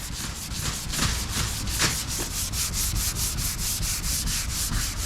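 A sanding block rubs back and forth along a car body line in steady, close strokes, a dry rhythmic scraping with no talk.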